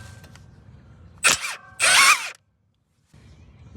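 A power tool breaks free the outer tie rod nut on a 2023 Jeep Compass with two short, loud, close whirring bursts, followed by sudden silence and then low background noise.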